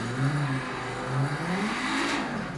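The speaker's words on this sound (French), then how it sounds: "je démarre la voiture, régime moteur revient, et on démarre" A car engine in the racing video game Project Cars restarts, humming and revving through rising and falling pitches, a steady mid-level motor drone with no talking.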